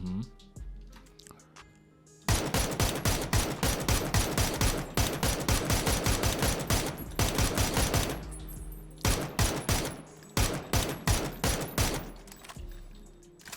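Rapid bursts of automatic gunfire from an AUG rifle in PUBG, loud and close, in long volleys separated by brief pauses, with quieter sparse shots near the end.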